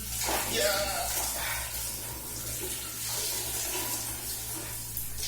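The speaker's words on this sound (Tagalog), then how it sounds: "Kakapasok ang tubig." Hot tap water pours steadily into a bathtub, a continuous splashing rush close by, with a person speaking briefly over it.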